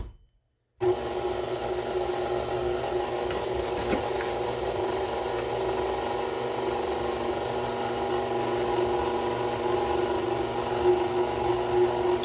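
An electric stand mixer beats gingersnap dough, starting abruptly after a brief silence and running as a steady, close, humming drone for about eleven seconds, with slight changes as it shifts gears.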